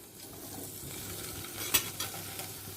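Cut paneer pieces sizzle in hot mustard oil with turmeric in a pan: a steady, soft frying hiss with a couple of sharper spits and stirring scrapes near the end, quiet and close, no talking.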